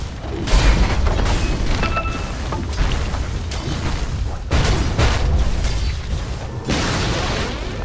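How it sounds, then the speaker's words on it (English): Heavy booms and crashing impacts roll through a Dota 2 match as the middle tower is destroyed, with several loud explosive hits over a dense, continuous battle rumble. "Radiant's middle tower has fallen."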